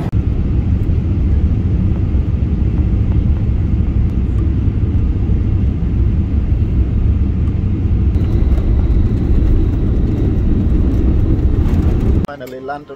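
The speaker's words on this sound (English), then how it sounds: "Finally landed in Shanghai, getting up now." Passenger airliner landing in Shanghai, heard from inside the cabin as a loud, steady low roar of engines and airflow that holds for about twelve seconds, then cuts off abruptly near the end.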